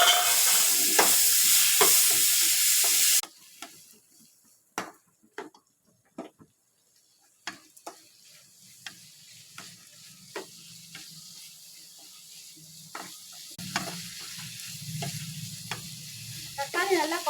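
Tomatoes for a spicy tomato chutney hit the pan with a loud, hissing sizzle that drops off within seconds to a softer bubbling fry, broken by sharp, scattered taps and scrapes of stirring.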